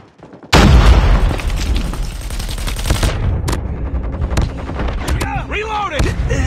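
A frag grenade explodes with a loud, close boom in Call of Duty: Mobile, followed by rattling gunfire and game effects that keep going after the blast.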